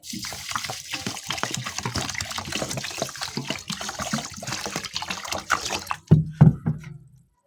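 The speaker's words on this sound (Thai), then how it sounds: "วันนี้เขาจะใส่น้ำเนาะ" Water poured over cassava in a rural Lao kitchen to soak it, heard as a continuous close splashing rush that ends in a few heavier sloshes and then stops.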